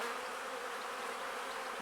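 Honey bees buzz in an opened beehive in late March, a dense, even drone of many insects filling the moment with no voices.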